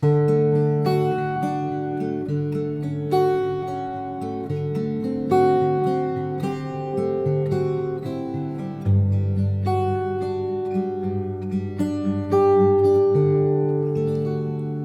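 A slow progression of rich, sustained chords with major seventh extensions played one after another, each ringing out with extended, jazzy voicings, steady and unaccompanied by voices.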